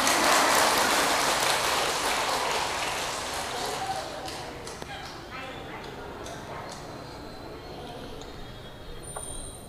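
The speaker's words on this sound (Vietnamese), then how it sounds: "Bây giờ mới vỗ tay." An audience claps at a spoken gathering, a dense, crackling wash of many hands that starts loud and thins out gradually over about ten seconds.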